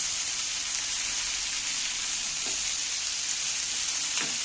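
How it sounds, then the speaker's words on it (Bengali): Potatoes, onions and chopped tomatoes sizzle steadily in a pan over a low gas flame, a loud continuous fry broken by a couple of brief spatula scrapes. "আলুগুলো দিয়ে দিন এর মধ্যে, কাটা টমেটোগুলো তুলে দিন। এইবার নাড়তে থাকবো।"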